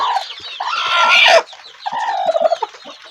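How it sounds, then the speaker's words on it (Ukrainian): A hen of the R3A breed clucks close by in a run of hoarse, agitated calls, rising into a loud squawking burst before settling into quicker, softer clucks; no one speaks. "Зараз хочу вам показати курочка Р3А."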